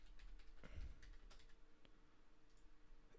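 Quiet keyboard typing comes in a short burst of light key taps while a search is entered, faint and close with a low room hum behind it.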